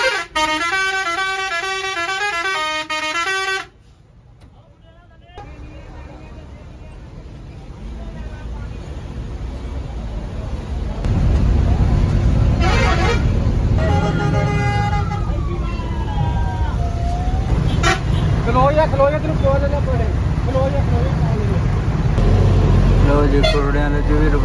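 A Baloch non-AC passenger bus pulls away from a stop on the Lahore to Faisalabad route, its musical horn tooting a melody up front, then the engine droning and several honks sounding as it moves off through town traffic.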